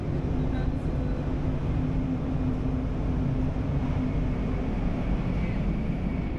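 A constant low rumble and roar of a Shinkansen high-speed train at full speed, heard from inside a carriage, steady and unbroken throughout.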